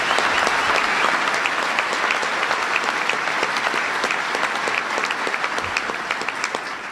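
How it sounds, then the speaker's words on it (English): A large audience in Springfield gives Senator Dick Durbin a big round of applause during a presidential speech, loud sustained clapping that holds steady for about seven seconds and eases slightly toward the end. "So please give Dick Durbin a big round of applause."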